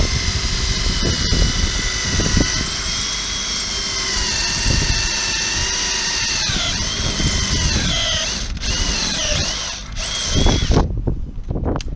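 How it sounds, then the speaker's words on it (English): A power drill bores a screw hole for a Forespar Leisure Furl mast track on a boat, a loud, close, sustained whine with shifting pitch and clattering bursts, stopping abruptly near the end. "and we're going to drill."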